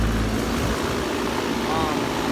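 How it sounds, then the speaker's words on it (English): A 2015 Carrier Comfort Series 4-ton heat pump using R410A refrigerant starts up with a steady, loud, broadband whoosh and low mechanical rumble, its fan droning continuously throughout. "Here's the start of this 2015 4-ton Carrier Comfort Series starting off."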